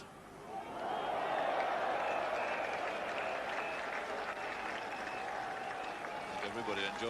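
Cricket crowd at a 1980 England v West Indies Test match applauding a hooked shot, steady clapping from a large stadium audience, with a commentator talking over it.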